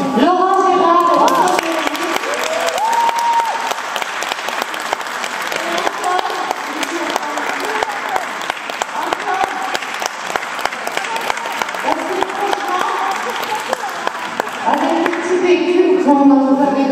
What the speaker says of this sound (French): je voudrais qu'avant, vous applaudissiez très fort